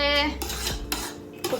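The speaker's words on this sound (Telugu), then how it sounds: "ఇట్లా కొంచెం ఆయిల్లో రైస్ని ఫ్రై చేయాలి" Rice stirred in hot oil in a metal pot for chicken biryani, with scraping and clinking of a utensil against the pot, a few sharp knocks and a faint sizzle underneath, close by.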